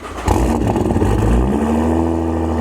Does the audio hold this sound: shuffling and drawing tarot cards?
no